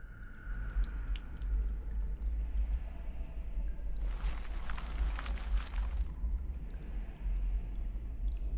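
Water pours onto freshly buried seeds in the point-and-click adventure Hob's Barrow, a short splashing burst of about two seconds, faint and close, amid a quiet ambient background.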